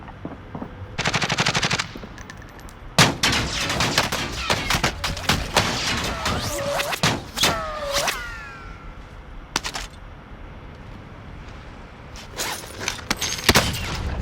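Gunfire rings out in the video game Call of Duty Warzone. Rapid automatic bursts and single shots crack close by, with ringing sweeping tones in the middle and more bursts near the end.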